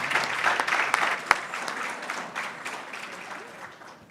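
Audience round of applause at a presentation event, a dense, steady clapping that swells early and gradually thins out over a few seconds, heard on its own without talk.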